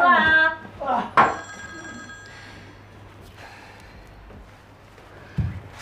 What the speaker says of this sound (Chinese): 电话，是你的电话，快接。